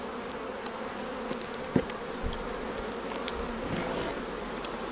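Honeybees buzz steadily inside a hive super as it is opened for a weekly inspection, a dense close-up drone with a few brief louder passes and knocks.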